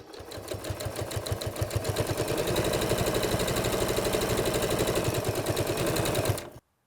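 A sewing machine fitted with an old needle stitches at a rapid, steady rhythm, running close and loud for several seconds before stopping abruptly.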